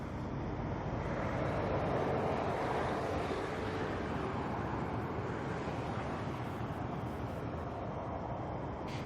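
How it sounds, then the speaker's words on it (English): A United Boeing 777 taxis at Auckland Airport, heard as a steady, distant jet engine roar blended with broad wind-like rumble, continuous and fairly faint. "We've got the 777 taxiing, we've got Nana taxiing"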